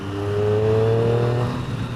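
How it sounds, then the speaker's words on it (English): A 2015 Triumph Street Triple RX motorcycle rides through town with a steady, growling exhaust note that swells slightly and then eases off over a couple of seconds. The sound is close and continuous, with no voices. "it growls and it snorts and it does that lovely bark. It's almost like the exhaust has two tones to it"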